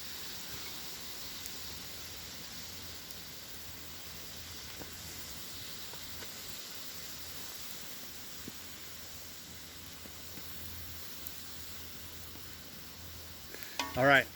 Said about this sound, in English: I'm just going to let that sit there and boil for a couple minutes